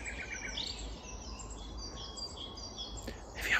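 A nightingale sings in the open, with clear, varied high phrases and trills over a steady low background rumble, growing brighter and louder near the end.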